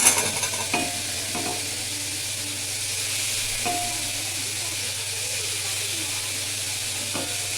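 Soya chunks heat in a pan on a stove while being stirred, giving a steady sizzling hiss with occasional scraping taps of the spoon against the pan, fairly quiet and with no talking.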